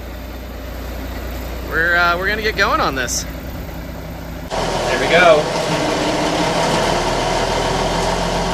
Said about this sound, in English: I'm driving a fire truck.